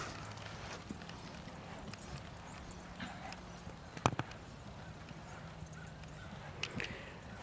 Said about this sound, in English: she is riding a horse, basically